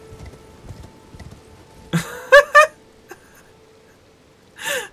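Horse hooves in the Elden Ring video game, a few sharp clip-clop hoofbeats in a short burst with a brief whinny-like cry, set against a quiet low game ambience, with another burst near the end.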